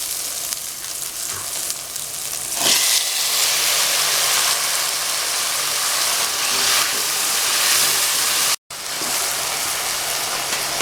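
Onions and tomatoes sizzling as they sauté in a pan for a brinjal curry, a loud steady frying hiss throughout that is broken only by one very brief dropout near the end.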